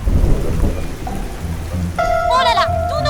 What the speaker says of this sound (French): Pourquoi pleut-il maintenant?